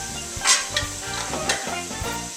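Garlic sauce stirred in a pot while making hog head cheese, rhythmic scraping strokes over a steady sizzle, with a few sharp clanks of the spoon against the metal, close and fairly loud.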